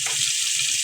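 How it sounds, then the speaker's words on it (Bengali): Spice paste of ground garlic, ginger, cumin, turmeric and chili powder sizzling hard as it is stirred in hot oil, a loud steady hiss up close with a few soft scraping strokes underneath. "এখন এই তেলের মধ্যে ভালোভাবে নেড়ে চেড়ে দিলাম"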